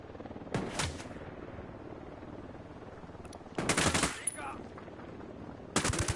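Gunfire in a Ghost Recon Wildlands firefight: short loud bursts of automatic shots around half a second, three and a half seconds and near the end, over a steady low background rumble.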